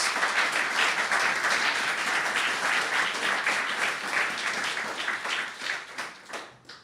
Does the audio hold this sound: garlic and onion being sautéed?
no